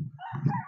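A rooster crows once nearby, a loud cock-a-doodle-doo with a brief break partway through.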